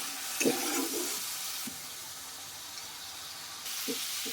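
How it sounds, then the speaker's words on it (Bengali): Water poured into a pan of spice paste frying for a crab and bottle gourd curry, a soft steady sizzle and hiss with a few stirring clatters, fairly quiet and close, no talking. "দিয়ে দেওয়া হচ্ছে সামান্য একটু জল"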